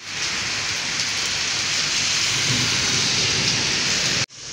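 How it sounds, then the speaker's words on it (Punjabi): Heavy rain pours down in a dense, constant roar that stays loud and unbroken for several seconds before cutting off abruptly. "ਅੱਲਾਹ ਖੈਰ ਕਰੇ ਬਾਰਿਸ਼ ਹੋ ਰਹੀ ਹੈ"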